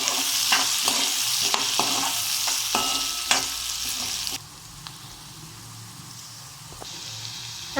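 Onions with turmeric being stirred in a hot pan for roasted eggplant curry (baingan bharta), with repeated spoon scrapes and clacks over a frying sizzle that drops quieter partway through, then picks up again.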